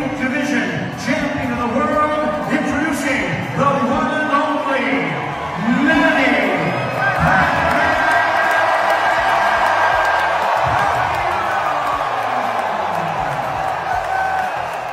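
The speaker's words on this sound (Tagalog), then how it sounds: "Grabe ang excitement at sigawan ng mga tao nung binanggit na ang pangalan ni Pacquiao." A boxing arena crowd cheers and shouts as Manny Pacquiao is introduced for his fight with Barrios, a dense, loud, sustained roar of many voices with whoops rising and falling throughout.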